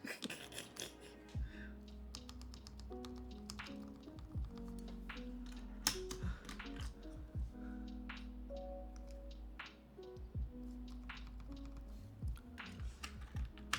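Typing on a custom mechanical keyboard with an Alice layout: a steady, close run of crisp key clacks with uneven rhythm and occasional louder strokes, no voices.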